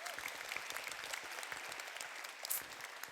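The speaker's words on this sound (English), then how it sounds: "Why don't you just clap for that if you're on board?" An audience at a talk bursts into scattered, moderate clapping that carries on evenly for a few seconds, heard from a middling distance, with a faint voice briefly audible beneath it.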